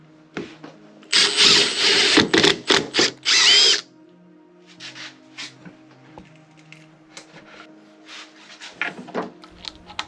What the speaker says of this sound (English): I've already determined the proper height to drill these holes at, and here we go